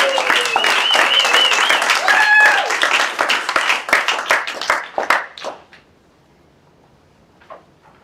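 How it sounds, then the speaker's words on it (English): Audience clapping at a live auction, loud and dense at first, with a voice calling out over it, then thinning into scattered claps and fading out to near silence. "Give him a round of applause, please."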